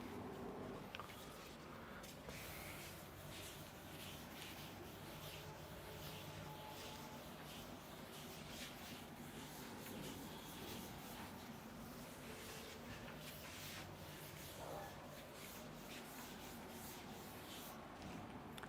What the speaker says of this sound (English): Now I am going to rub this part.